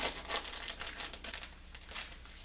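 A product label and its nutrition panel being cut off packaging, giving close, continuous crinkling and crackling of plastic or paper with small tearing snips, steady and unaccompanied by speech.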